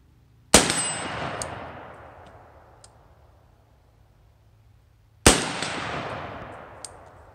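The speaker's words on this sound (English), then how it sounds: "I'm gonna hit this 50-yard gong, and then I've got a 100-yard gong" Rifle bullets strike a steel gong 50 yards out, two sharp ringing clangs several seconds apart, each decaying slowly with a long metallic shimmer and no talk.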